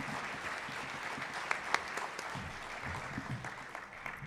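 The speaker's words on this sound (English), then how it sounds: "Please give him a round of applause." An audience at a fellowship orientation program gives a round of applause, a steady wash of moderate-level clapping from a large room that continues throughout.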